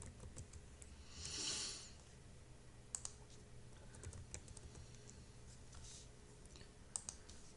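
Faint clicks from a computer mouse and keyboard while a web page is opened and edited, scattered irregularly over a soft steady background hiss, with no talk.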